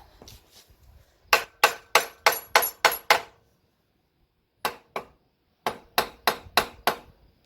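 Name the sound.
tapping aluminum case to separate it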